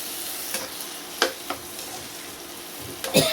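Chicken shawarma filling frying in a pan gives a constant close sizzle, with a few sharp scrapes and clicks of a spoon stirring at irregular moments.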